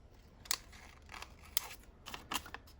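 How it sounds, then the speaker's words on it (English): Scissors snip paper ephemera in a quiet room, a few distinct crisp cuts spaced irregularly with faint rustling between them. "Trim this stuff off."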